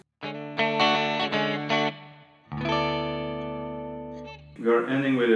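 Rockabilly electric guitar plays the ending of a song: a few quick strummed chords, then a long ringing sustained chord, closing with a brighter final chord, close and fairly loud with no talking.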